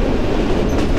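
A passenger train running on a rural route rumbles loudly and steadily, with the close clatter of carriages on the rails.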